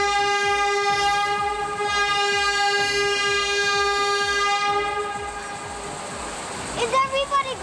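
A tourist tram on the line to the Cascades on the Lefroy River in Western Australia sounds a long, sustained horn over a low rolling rumble, then clatters and screeches briefly as it moves.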